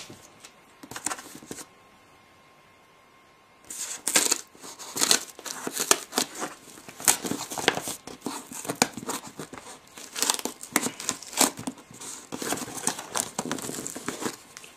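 Flimsy plastic toy scissors snip and crinkle through material, giving irregular bursts of crisp rustling and clicking that come close and fairly quiet, with a short near-silent pause early on before the cutting resumes steadily.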